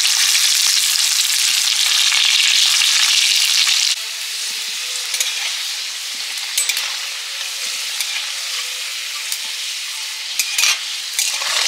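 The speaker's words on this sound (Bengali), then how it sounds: "মাংসের আলু একটু ভেজে নিচ্ছি হালকা করে" Potato pieces for a meat curry fry in hot oil with a little turmeric and salt, a loud steady sizzle with scraping stirs that eases to a softer crackle after a few seconds, punctuated by occasional spoon clinks.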